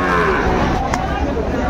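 A Sahiwal bull calf at a Munshiganj farm gives a low, drawn-out moo close by, against a busy background of farm noise.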